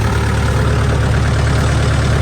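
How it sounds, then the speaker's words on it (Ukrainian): Tractor diesel engine idling steadily at around 1000 rpm while driving a homemade 220 V generator, a loud, close, even low rumble with no change in pace. "У мене трактор працює на 1000 обертів."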